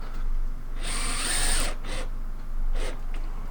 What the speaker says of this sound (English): so you can drill into it without stripping your screws